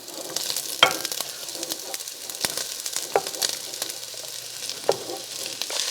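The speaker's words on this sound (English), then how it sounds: "the oil has come up to temp, and it is time to add my veggies to soften them up" Onion and chopped vegetables sizzle in hot oil, a bright crackling hiss with scattered sharp pops and occasional spoon knocks against the pan, close and continuous, with no talking.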